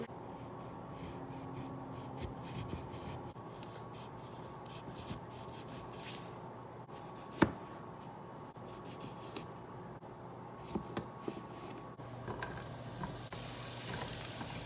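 Zucchini cooks in a pan with a faint, even sizzle, broken by occasional soft scrapes and one sharp utensil tap midway, quiet and with no voices.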